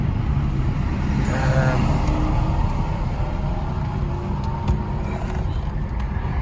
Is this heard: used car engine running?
yes